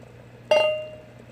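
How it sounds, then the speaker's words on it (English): A single bright clink sounds as a clear glass container knocks while the bottom of a shrimp tank is cleaned, ringing briefly and fading over a low hum. "It was glass, that's why you heard that."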